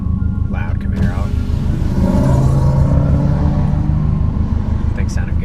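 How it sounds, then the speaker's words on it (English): A loud Chevrolet Camaro engine rumbles and revs steadily, swelling a little in the middle, with a voice briefly heard over it. "Loud Camaro."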